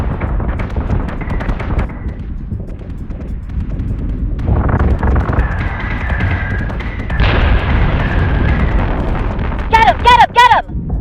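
Ship weapons in Battlestar Galactica Deadlock firing on a target: a steady roar of booming blasts and flak bursts, with sweeping electronic tones and a rapid warbling alarm near the end.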